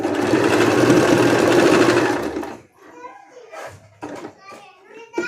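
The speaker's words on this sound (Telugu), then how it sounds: "ఇటు చివరిన కూడా ఒక స్టిచ్ అనేది లాక్ వేసేయండి" A domestic sewing machine stitches a kurti, running loud and steady for about two and a half seconds before stopping, followed by a person speaking.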